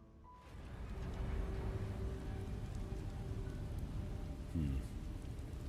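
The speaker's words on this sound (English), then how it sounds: "More rain." Steady rain pours in the game Beast of Reincarnation, a dense, even wash of drops that holds loud for several seconds, with a brief low rumble near the end.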